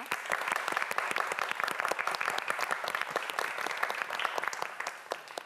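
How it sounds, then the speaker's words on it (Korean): A studio audience at a TV quiz show gives a winning student a long round of applause, with dense, loud clapping that runs throughout and tapers slightly at the end. "이현우 학생에게 다시 한번 큰 박수 부탁드립니다"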